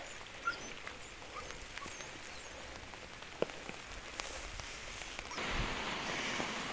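Steady rain patters on a surface with scattered sharp drops, growing into a heavier, louder wash toward the end.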